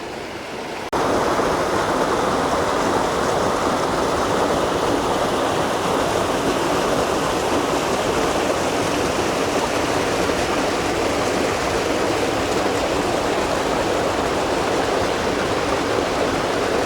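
Wildcat Falls along the Back Mountain Rail Trail in Pennsylvania, a small waterfall pouring into Toby's Creek under a bridge, with a loud, steady, broadband rush of falling water that starts abruptly and continues without letup.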